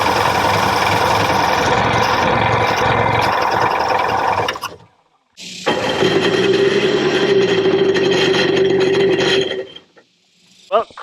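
A barn find jet ski engine catches and runs in two loud sustained bursts, with a steady buzzing drone and a cut-out gap between them, then falls silent. Speech is heard over the running engine.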